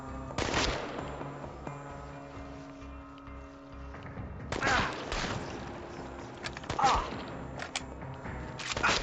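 Gunfire in Chernobylite, a few sharp shots and short bursts spaced several seconds apart over a low hum of game ambience.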